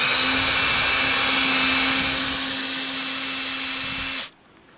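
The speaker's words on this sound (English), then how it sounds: "Boy, that's a sharp drill bit, huh?" A power drill with a sharp bit runs at a steady, loud, high whine for about four seconds, then stops abruptly, leaving quiet room noise.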